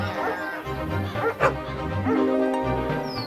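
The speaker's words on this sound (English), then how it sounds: "The dogs chased the wolf away and saved the lamb." Cartoon dogs bark and yip excitedly while chasing a wolf in an animated short film, heard under music and narration, with one sharper bark standing out.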